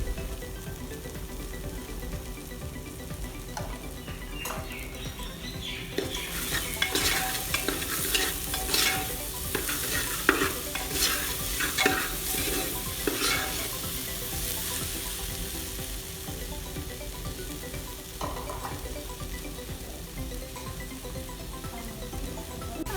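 Bhindi and moong dal frying in a pan while being stirred for an Indian dal dish, with steady sizzling and a burst of scraping spoon strokes in the middle, no voices.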